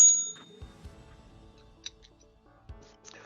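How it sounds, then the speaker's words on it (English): Light metallic bell dings, a few bright strikes spaced irregularly over a quiet room with soft clinks and thumps. "Our bell."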